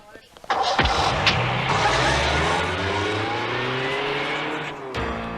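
A car drives along with a steady, loud engine roar and road rumble that settles after a sharp start, with a few clunks and thumps over the top and no talking.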